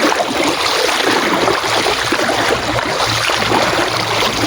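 A fast-flowing river rushes in a loud, continuous churning roar, heard up close and unbroken, with a faint low hum underneath and no speech.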